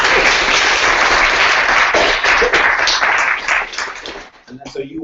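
Audience applause at a charity jamboree presentation: dense, loud clapping that runs steadily for several seconds, then thins out and fades as a voice begins to speak.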